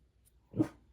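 A dog gives a single short, muffled bark at neighbors outside, faint and somewhat distant in an otherwise quiet indoor room.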